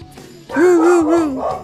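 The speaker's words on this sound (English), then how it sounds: "The dog's going ballistic." A pet dog close by lets out a single drawn-out, whining bark-like howl lasting about a second, loud and alone after a brief quiet lead-in.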